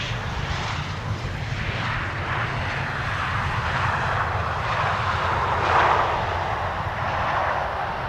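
A KLM Embraer 175 airliner arriving from Barcelona at Amsterdam Schiphol Airport makes a loud, steady engine roar that swells slightly midway and holds throughout.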